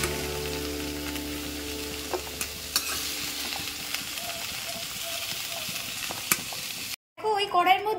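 Snake gourd pieces fry in a pan with a steady, close sizzle and occasional scrapes of stirring, continuing for several seconds before a short silence and a burst of other noise at the end.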